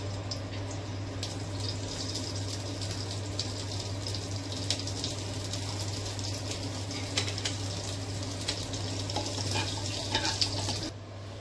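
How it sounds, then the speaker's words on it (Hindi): Mustard seeds and cumin sizzling in hot mustard oil for a Goan brinjal bhaji, a steady close crackling fry with a constant low hum underneath and no talk. "सो इल्ली हांवें मस्टर्ड ऑयल घातला आनी हे मस्टर्ड, राय आनी जिरे घालता."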